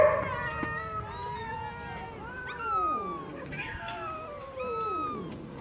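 Many cats at a shelter in besieged Aleppo, Syria, meow and wail in overlapping, drawn-out cries, several voices close by and fairly loud against a faint background.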